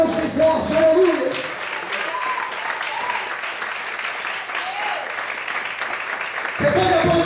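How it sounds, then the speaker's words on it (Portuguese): A church congregation applauds loudly, a dense and sustained wash of clapping, while a preacher's voice speaks over it near the start and again at the end. "Você pode aplaudir e exaltar a Deus bem forte"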